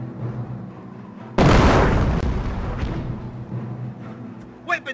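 Mortar shells explode in Company of Heroes during a WWII battle at Carentan: one sudden loud boom with a long rumbling decay over a low background drone, and faint voices toward the end.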